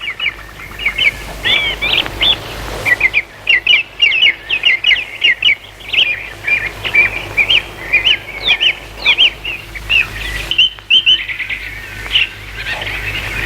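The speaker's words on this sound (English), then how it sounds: "he heard a whir of wings above his head" Many birds chirp and tweet in quick, loud, overlapping bursts close by, with brief fluttering of wings among the calls, continuing with short pauses throughout.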